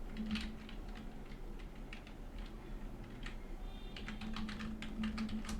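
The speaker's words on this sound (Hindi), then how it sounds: "अब यहाँ पे हम नरेशन टाइप करेंगे" Close typing on a computer keyboard while a narration is entered in Tally Prime accounting software, a steady patter of light key clicks with a few brief pauses and no speech.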